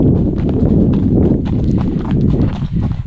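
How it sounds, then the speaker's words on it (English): A yearling colt trots on a road during roadwork, hooves clip-clopping in a quick, close, loud rhythm over a constant rumble of movement. "This horse is a magnificent trot."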